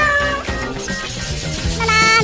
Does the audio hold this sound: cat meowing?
yes